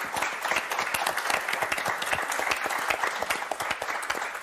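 Studio audience applause on a French game show, a steady dense wash of clapping held at full strength throughout with no pause.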